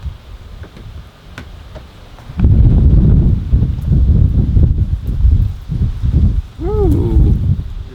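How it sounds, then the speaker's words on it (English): Strong gusting wind buffets the microphone during a DJI FPV drone flight outdoors, rumbling loud and close after a quieter start, with a short chirp near the end and no talking. "Ooh, you feel that wind?"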